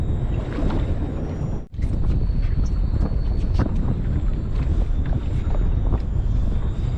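Southerly wind gusting across a small fishing boat on Botany Bay, Sydney, a loud, steady roar of wind buffeting the microphone with a brief dropout, alone without talk.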